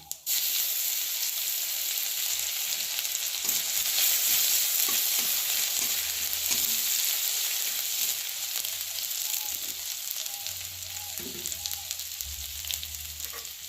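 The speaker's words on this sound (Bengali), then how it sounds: "এখানে ফোড়নে দিলাম গোটা জিরে, একটা শুকনো লঙ্কা আর গ্রেট করে রাখা আদা।" Whole cumin, a dried red chili and grated ginger sizzle and crackle steadily in hot oil for a vegetarian dish, a loud continuous fry with occasional low bumps and scraping from the pan, no voices.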